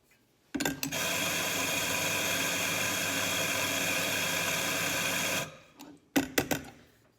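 A coffee grinder runs on Mokka beans, a loud continuous whirring grind lasting about five seconds before winding down, followed by a few sharp clicks and knocks nearby.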